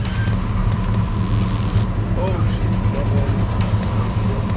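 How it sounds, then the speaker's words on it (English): A 2009 Ford Mustang GT with a Paxton Novi 2200SL supercharger idling after a cold start, giving a loud, steady, deep rumble close by. People talk faintly under it. "A little cold start."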